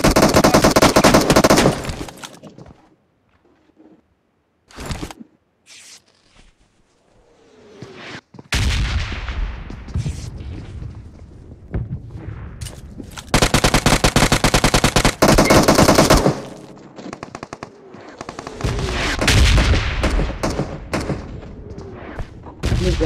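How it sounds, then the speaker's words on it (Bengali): Gunfire from a bot in a mobile shooter game comes as loud rapid automatic bursts separated by quieter gaps, with several sustained volleys of shots up close. "বট ফায়ার করছে সামনে।"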